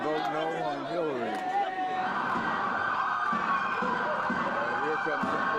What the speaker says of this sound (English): Here comes some police vehicles with their sirens blaring